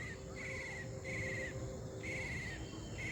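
A night-time forest in Sonajhuri, Jharkhand, with a repeated high, faint call recurring about every half second over a constant bed of insect and cricket chirring.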